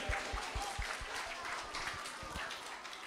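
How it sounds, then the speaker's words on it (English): A small morning gathering offers a brief round of applause for friendship, faint scattered clapping with a few heavier claps, heard at a distance in a roomy space. "Round of applause for friendship."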